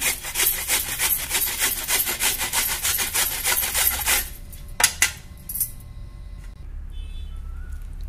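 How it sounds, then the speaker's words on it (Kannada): Carrots being cut with rapid, rhythmic rasping strokes for several seconds, then a couple of sharp knocks before it quiets down. "ಹಿಂಗೆ ಕ್ಯಾರೆಟ್ ಹೆರ್ಚ್ಕೊಂಡೇನಿ"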